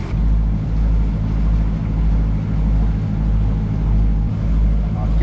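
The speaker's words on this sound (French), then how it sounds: "Et on a démarré le moteur." A sailboat's inboard engine drones steadily at night once the wind has dropped and the sails are down, a deep continuous rumble with a faint hiss of wind and water.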